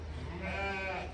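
A single sheep or lamb lets out one wavering bleat lasting about a second, close by, over a low background rumble while lambs are sorted out to pasture.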